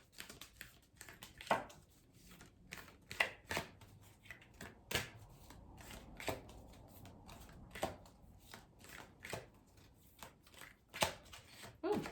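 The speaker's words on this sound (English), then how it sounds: "there's a lot of shuffling there" Tarot cards are shuffled in quick bursts of riffling snaps, repeated irregularly and close up, with soft gaps between.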